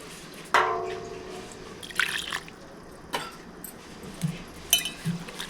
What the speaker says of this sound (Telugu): ఈ సైజు చింతపండు తీసుకొని శుభ్రంగా కడిగి రెండుసార్లు నానబెట్టుకోండి